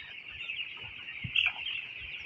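A dense chorus of fourteen-day-old broiler chicks peeps steadily and shrilly throughout, a continuous high twittering with one slightly louder cluster of calls near the middle and no voices.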